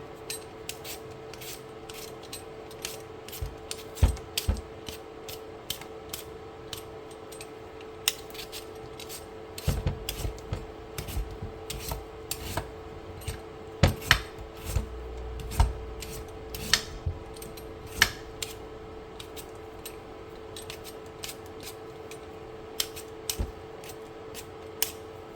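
A knife dices peeled potatoes on a cutting board in a home kitchen, making a run of sharp, close chopping taps at an irregular pace with quiet gaps between them and no talking.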